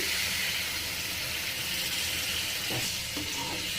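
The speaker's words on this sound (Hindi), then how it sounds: "अब मैं दाल को गलाने के लिए डालूँगी आधा कटोरी पानी" Half a bowl of water poured into dal frying with spices, a bright steady sizzle and hiss with a few splashy knocks from the pan toward the end.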